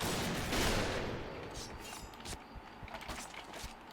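Gunfire in the Point Blank shooter video game: a burst of rapid shots up front, then scattered fainter shots and clicks trailing off, moderately quiet overall.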